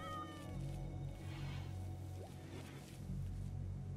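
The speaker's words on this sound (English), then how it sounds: "is there another cat that's, like, whining at us, or is that just my main cat here? That's just meowing at us regularly?" A cat meows in the colony-building game Rimworld, a faint drawn-out whine over a low steady background hum of game music and ambience.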